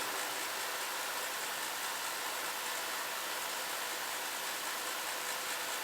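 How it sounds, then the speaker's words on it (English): A homemade welding fume extractor fan sucking smoke runs with a steady, even whooshing roar from start to finish. "But it's right here where I weld, and it's sucking the smoke right outside"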